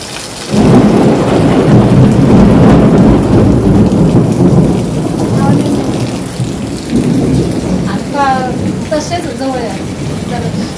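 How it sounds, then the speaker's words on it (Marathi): Heavy monsoon rain pours steadily with low rumbling thunder, a dense loud roar throughout; the downpour eases slightly midway, and birds chirp faintly near the end. "बघा नका किती पाऊस येतोय"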